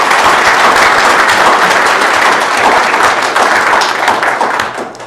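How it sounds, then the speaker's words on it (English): A city council audience gives a big round of applause, dense and loud throughout, then easing slightly toward the end. "Give them a big round of applause."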